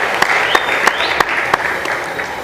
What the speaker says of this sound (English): A round of applause for Hussein as he leaves the panel